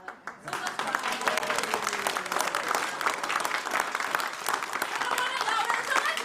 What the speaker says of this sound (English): So when I clap, you all clap.